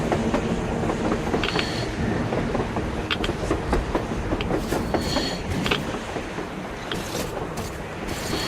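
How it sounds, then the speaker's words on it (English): A train in the video game Metro Exodus rumbles past with a steady, loud clatter of wheels on rails, metallic squeals and clanks cutting through the dense roar. "A train! A damn train on the surface!"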